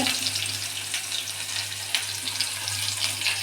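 Continuous crackling sizzle of onions frying in hot oil after mustard seeds, for tomato chutney, close and steady, with faint scattered pops throughout.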